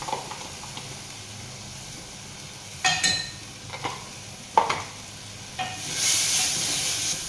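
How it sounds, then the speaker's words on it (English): Garlic ginger paste and spring onions frying in a pan for Indian dal: a quiet background sizzle with scattered stirring clinks, then a louder hiss that rises near the end. "We are adding in garlic ginger paste, and we are going to fry it a bit."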